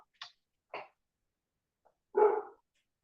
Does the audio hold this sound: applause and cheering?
no